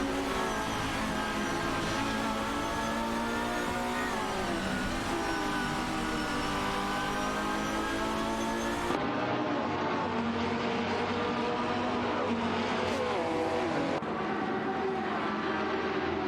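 Race cars in an AI racing video game roar steadily with layered engine tones, the pitch shifting up and down as they accelerate and change gear, loud and continuous throughout.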